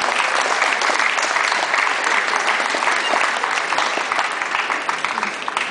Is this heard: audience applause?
yes